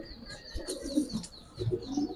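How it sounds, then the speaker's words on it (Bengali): A female pigeon coos softly at close range, a few short murmuring coos with light chirpy tones, heard alone without talk. "মাদি কবুতর ভাই"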